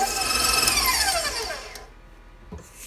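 An electric mixer creams softened unsalted butter with sugar for cookie dough, whirring loudly up close with a falling pitch as it slows and then stops, leaving a quieter tail.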